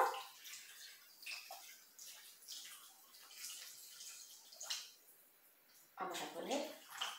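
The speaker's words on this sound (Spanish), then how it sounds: "Vamos a poner el agua." Water poured into a Thermomix bowl while preparing a potato and chicken casserole, a bright splashing trickle in short bursts with a stronger pour near the end, heard at close range.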